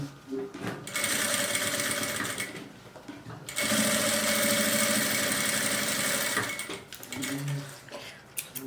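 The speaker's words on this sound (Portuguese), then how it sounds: "Agora a gente passa uma costura aqui, ó, na volta, pra prender o tecido do forro aqui nessa parte" A sewing machine stitches the fabric lining of a small pouch in close, steady whirring runs of a few seconds each, separated by short pauses and light handling noises.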